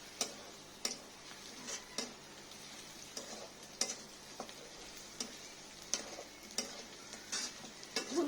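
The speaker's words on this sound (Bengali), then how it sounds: "পেঁয়াজটা নাড়তে নাড়তে যখন একটু বাদামি কালার হয়ে আসবে তখন আমি বাটা মশলা," Onion is stirred and fried in a pan for a pigeon meat curry, giving a quiet, steady sizzle with regular, sharp taps and scrapes from the spatula about every half second.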